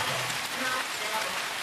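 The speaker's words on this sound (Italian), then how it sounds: "Piove di nuovo." Steady broadband hiss of rain falling, close and even with no pauses, heard for a short moment.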